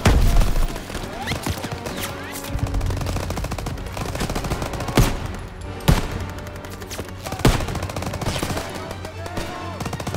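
Gunfire in the World War II video game Call of Duty WW2, with continuous battle noise, rapid automatic bursts and sharper single shots, loud and dense throughout, with occasional talk mixed in.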